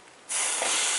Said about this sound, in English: fry the oats for 4 to 5 minutes. Stir continuously to avoid burning.